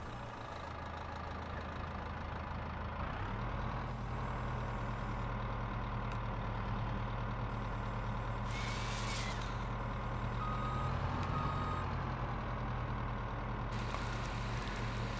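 A truck engine idles and revs steadily in Farming Simulator 22 while a reversing alarm beeps repeatedly over it, a continuous mid-level drone throughout.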